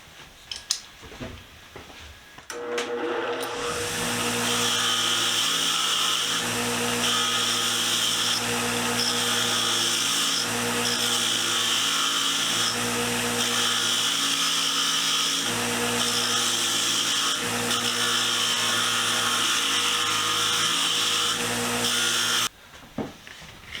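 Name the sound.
wire wheel removing paint from an old wrench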